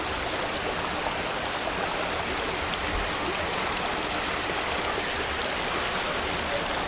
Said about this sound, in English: We are crossing the river